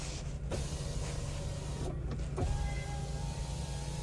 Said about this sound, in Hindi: और ये पावर विंडोज़ के स्विच हैं,